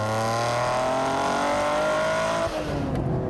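Noble M400 sports car engine held in third gear, revving steadily upward under hard acceleration, loud and close, with a brief dip near the end.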